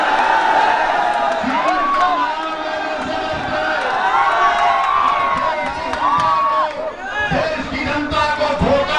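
A large crowd at an outdoor election rally in Uttar Pradesh in heavy rain cheers and shouts in a loud sustained roar, with whoops and a speaker's amplified voice over the noise.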